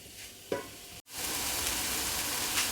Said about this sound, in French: Je verse directement mes pommes à l'intérieur et je vais laisser donc caraméliser.